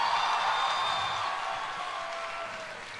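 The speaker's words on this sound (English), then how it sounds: "please give a huge round of applause for my mother" Audience applause at a comedy show, a steady wash of clapping that fades slightly toward the end.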